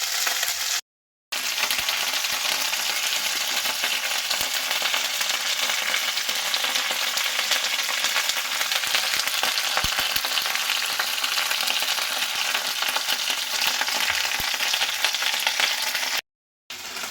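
Okra stirring as it fries in a pan: a loud, steady, close sizzle runs almost unbroken, with a couple of brief dropouts and no voices.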